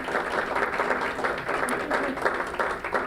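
An audience applauds panelists at a San Diego panel event on feeding kids, a steady, fairly quiet wash of clapping throughout.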